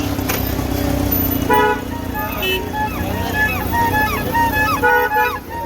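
Busy street traffic in a crowded shopping market, with repeated car and motorcycle horn toots and beeps over a constant engine rumble and crowd murmur.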